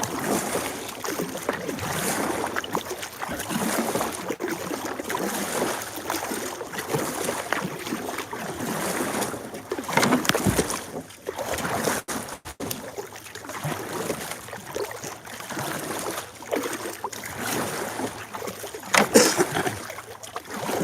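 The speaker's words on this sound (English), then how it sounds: "Oh, it's tough paddling, but we're still moving." Kayak working through a river riffle on a Missouri gravel-bar stream, with continuous rushing water, splashing paddle strokes and some wind buffeting the microphone, steady and close throughout.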